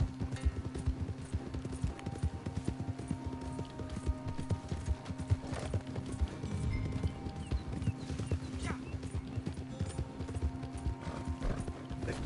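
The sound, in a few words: horse hooves clip-clopping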